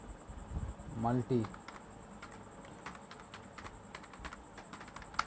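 Sparse, faint key clicks from a computer keyboard as C program code is typed, scattered lightly across the stretch after a brief burst of voice near the start.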